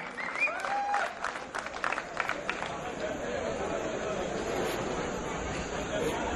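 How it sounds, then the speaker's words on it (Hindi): Audience applause at a poetry recital (kavi sammelan) during a science fair and expo in 2012 greets a poet taking the stage. Steady, dense clapping fills the hall throughout, with scattered voices and chatter mixed in. "एक जोरदार स्वागत, एक जोरदार तालियों के साथ"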